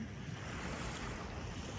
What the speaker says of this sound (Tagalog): ito dagat diba?